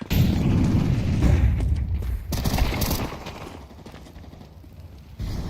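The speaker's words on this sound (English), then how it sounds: "Flashbang. Incendiary out." Flashbang grenade and incendiary thrown in a tactical shooter game, heavy booming blast at the start followed by sharp bursts and a crackling burn tail, loud and close, then a further thump near the end.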